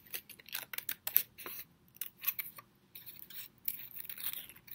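Scissors snip and crunch through paper in a quiet, uneven series of short cuts, close by, with no voices.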